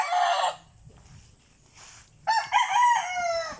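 Fighting cock roosters crow loudly at close range, one full crow at the start and a second drawn-out crow later, with faint clucking and farmyard noise in the quiet gap between.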